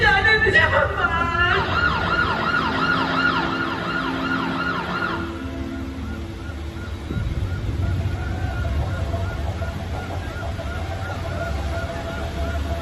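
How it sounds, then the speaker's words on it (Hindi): An ambulance siren wails loudly over road traffic in a congested jam, its rising and falling tone dominating the first few seconds before fading into a steady rumble of engines and distant horns. "सर ट्रैफिक में एम्बुलेंस फंसी है।"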